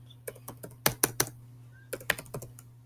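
Keys clack on a computer keyboard while HTML code is entered, in short uneven bursts of crisp clicks with a louder cluster in the middle and a steady low hum underneath.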